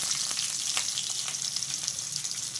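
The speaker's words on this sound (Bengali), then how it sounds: "এবং কয়েকটি লবঙ্গ দিয়ে পেঁয়াজটুকু একটু ভেজে নিব" Onions frying in oil with cinnamon, chili and bay leaf, a steady close sizzle with occasional stirring scrapes and no talk.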